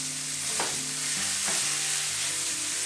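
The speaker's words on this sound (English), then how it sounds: "we're just going to fry this up in the frying pan" Pork and sausage meat frying in a frying pan for venison chili, a steady continuous sizzle with two brief stirring scrapes, heard close with no talking.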